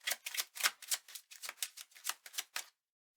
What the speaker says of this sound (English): So we've given that a shuffle